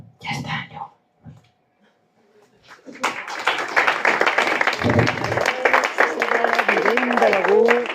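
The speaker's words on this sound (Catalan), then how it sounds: "I amb aquests aplaudiments que van sonant per una escena potent" Audience applause breaks out at a staged Christmas nativity play in Begur, Catalonia, after quiet voices and a pause, then sustained dense clapping with a voice and some musical tones running over it.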